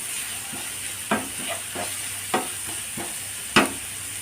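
Green chillies and curry leaves frying in hot oil in a pan for cabbage masala roast, a steady close sizzle broken by several sharp pops and stirring knocks.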